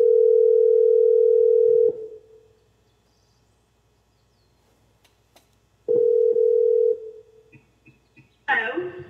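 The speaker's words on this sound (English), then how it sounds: "So let's get Karen Ward on the phone." Steady telephone dial tone sounds for about two seconds as a call is placed, falls silent, then returns briefly before other beeps and a line noise, with no talking.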